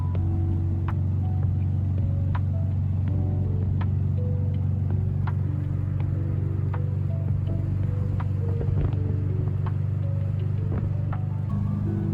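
A VW Beetle with a swapped-in Subaru engine is on the road, giving a steady low engine drone with a shifting hum of tones above it. It sounds close and continuous, with no one speaking.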